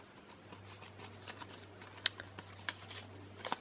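Quiet, sparse snips of scissors cutting lace trim for a scrapbook page, a few sharp clicks scattered over soft paper rustling and room hum.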